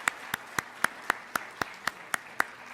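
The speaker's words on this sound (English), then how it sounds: "let's give a great round of applause to our panel who did an outstanding job today" A single person claps slowly and steadily at a conference panel, about ten evenly spaced claps in under three seconds, close and distinct rather than the wash of a full crowd.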